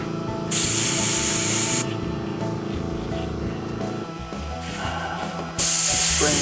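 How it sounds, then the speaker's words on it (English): Paint from a spray can hisses in two loud bursts through a whisk broom onto a painted backdrop, with scraping and handling noises between the bursts. "Spraying it through this whisk broom."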